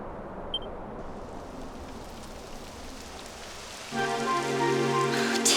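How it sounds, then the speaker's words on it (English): Rain falls in the video game Dragon Quest XI, a steady soft patter that grows slightly louder as a sustained musical tone enters partway through. "Typical. It would have to go and start raining, wouldn't it?"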